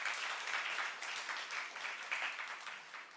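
A church youth congregation claps in praise to God during a sermon. Rapid, uneven handclaps continue throughout at moderate loudness, with a faint murmur of voices underneath.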